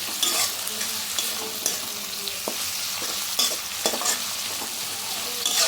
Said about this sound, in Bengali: এখন আমি এটাকে তেলের সঙ্গে ভালো করে ভেজে নিচ্ছি পেঁয়াজটা